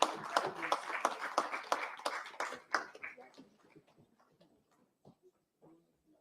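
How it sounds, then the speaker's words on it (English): Audience applause at a logistics and supply chain conference in India: a burst of clapping that starts moderately loud, then fades and breaks up into scattered individual claps, with some murmured voices mixed in. "Please keep the applause going, ladies and gentlemen."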